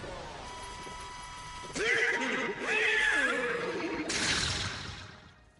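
A horse in the Destiny 2 video game neighs and whinnies in several loud, wavering calls, with a background voice and game ambience.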